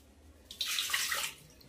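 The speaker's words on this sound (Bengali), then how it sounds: "এই কাপের মাপের আমি জল দেব" Water is poured into a pot of rice in a single steady splashing stream lasting under a second, close and fairly loud over a quiet room.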